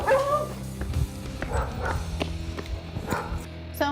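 A dog that is aggressive toward other dogs and territorial about the house barks in short yips and whimpers indoors, close and fairly loud, with several bursts over a few seconds.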